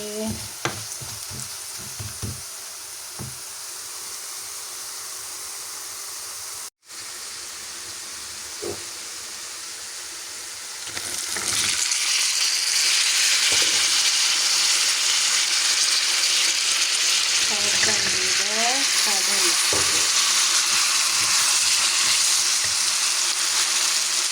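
Peanuts and seeds frying in oil with a little salt, a steady close sizzle that swells to a louder, denser hiss partway through, with occasional stirring scrapes and clicks and no talking.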